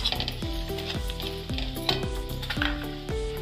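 Coriander powder goes into a masala sizzling in a pan, a low crackling fry under a repeated stepped musical tone, with light stirring noises.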